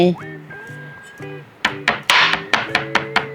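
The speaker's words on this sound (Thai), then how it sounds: "ทุบเพื่อจะให้หมูนุ่ม" Sliced pork neck is pounded to tenderize it for Chiang Khan-style jum hon hotpot, a series of sharp, evenly spaced thuds close by that follows a man's speech.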